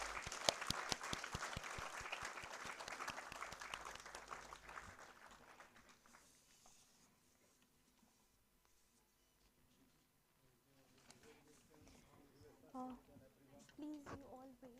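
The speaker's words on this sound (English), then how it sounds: "A big round of applause for the winners." An audience at a National Science Day celebration applauds the winners with a burst of clapping that fades out after about six seconds, leaving quiet room noise and some faint voices.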